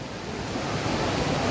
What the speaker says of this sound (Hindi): पानी गिर रहा है